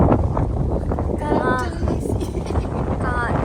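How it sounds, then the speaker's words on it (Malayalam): Steady wind rushing and buffeting close to the microphone on a cold day on the way to a park, with faint background voices and outdoor noise throughout. "കാറ്റ് വീശീത്"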